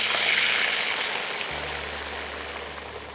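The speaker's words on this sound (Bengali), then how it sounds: "এবার এর মধ্যে তুমি জল দাও।" Water poured into a pan of Bengali lau dal curry with bottle gourd greens, a steady broad rushing splash that gradually softens and thins over a few seconds.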